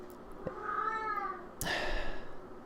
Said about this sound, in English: apparently my cat doesn't want me making this video